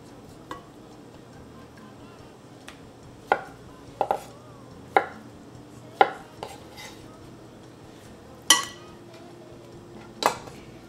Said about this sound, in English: Cooked radish and beef. So let's cut this.